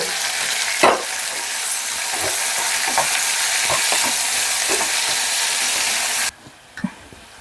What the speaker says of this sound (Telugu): ఒక 1/2 చెంచా ఉప్పు వేసేసి వీటిని బాగా వేపుకుందాం.